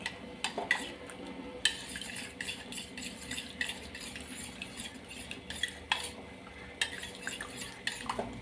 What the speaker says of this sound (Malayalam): സ്പൂണിൽ കുറച്ചും കൂടി ഒന്ന് മിക്സ് ആവാനുണ്ട്